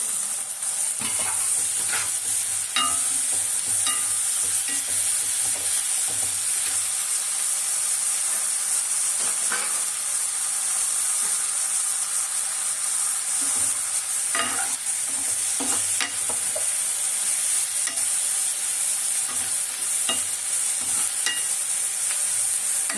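Tomato, coriander and curry leaves fry in oil for a white tomato kurma, a continuous bright sizzle with scattered soft stirring clicks throughout.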